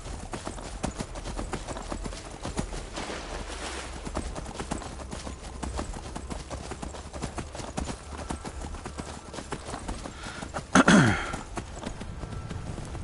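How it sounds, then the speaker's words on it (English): In the Skyrim video game, a horse's hooves clip-clop in a quick, continuous rhythm over steady rushing wind, with a brief louder snort or whinny near the end. "Go on, horsey. You can do it."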